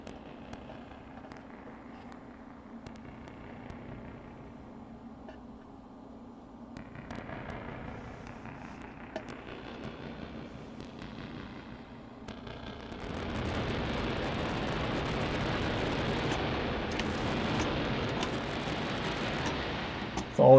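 HNS-100 harsh noise box by Gen Thalz with reverb applied: faint crackling textures give way to a dense, roaring wall of washed-out noise that swells louder and holds steady for the last several seconds.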